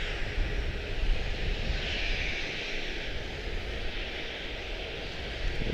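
A PSA CRJ regional airliner taxiing at Charlotte-Douglas International Airport, a steady broadband engine roar and whine holding at a constant level throughout, distant but continuous, with no talk over it.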